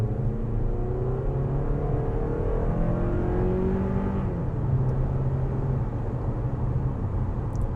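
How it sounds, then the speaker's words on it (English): A 2025 Toyota RAV4 LE with its gas-only engine pulls away at about two-thirds throttle, a steady cabin engine drone rising in pitch, easing off and climbing again as it shifts, with no talk. "Let's give it about 2/3 throttle."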